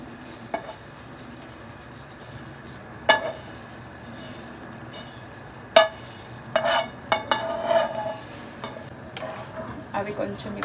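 A spoon stirs vermicelli (semiya) cooking in milk with jaggery in a pot, making scattered scrapes and clinks, some in quick clusters, over a soft steady simmer.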